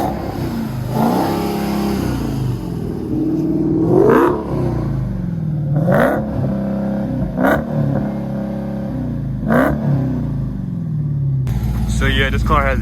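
An 808-horsepower Dodge Demon V8 accelerates hard in a series of loud, rising revs, each cut off by a gear change, roaring close and powerful from the cabin, with a sharper burst near the end.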